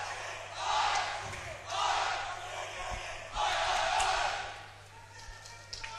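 A crowd of Welsh supporters at a fencing match chants in swelling, rhythmic waves of massed voices, loud and reverberant in an indoor arena, with a few thuds in between.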